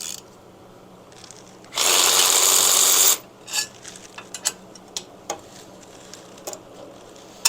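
A power tool bursts loudly for about a second and a half while driving bolts on a fender strut mount of a 1972 Harley-Davidson XLCH Ironhead Sportster, followed by scattered clicks and taps of handling parts.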